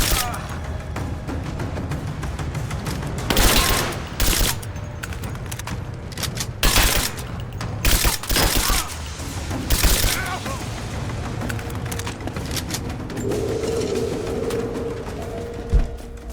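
Gunfire in the video game Rise of the Tomb Raider: several loud, sharp shots and short bursts ring out at irregular intervals over a steady background of ambience, with some voices heard during the exchange.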